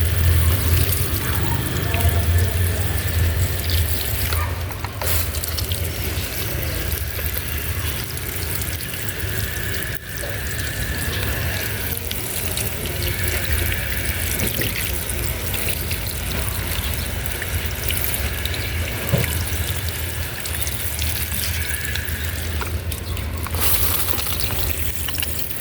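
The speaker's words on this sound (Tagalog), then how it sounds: "So, magdilig na tayo." Water sprays steadily from a Triggle hose nozzle set to its shower pattern, watering cactus plants; a continuous, close hiss that runs unbroken throughout.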